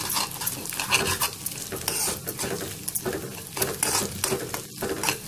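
Egg and Maggi masala noodles fry in a pan, with a constant sizzle under busy, repeated scraping and stirring of a utensil against the metal, all close up.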